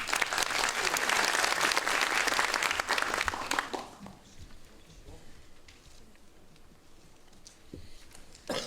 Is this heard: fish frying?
no